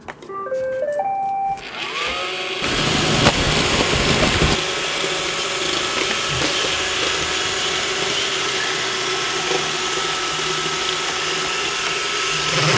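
Two iRobot Roomba robot vacuums, a 560 and a 760, grind against each other in a close, loud, steady whir of motors and brushes, with rattling contact and a sharp mechanical burst early on.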